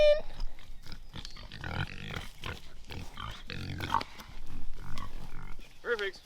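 Pigs grunt and snort repeatedly at close range while being moved on a farm, their rough bursts forming an irregular rhythm over a steady background, with a few higher squeals near the end.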